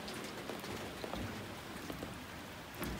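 Steady rain patters down outdoors during a fishing trip. The soft, even hiss is broken by scattered, sharper drops ticking on nearby surfaces, and no one speaks.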